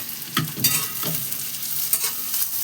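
Chopped onion frying in a pan over a low gas flame, a steady sizzle with a few stirring scrapes and clicks throughout, no talking.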